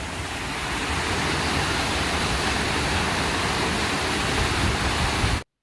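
Water gushes steadily through an opened gate on a canal lock, a loud, continuous rushing roar that holds at full strength before cutting off abruptly.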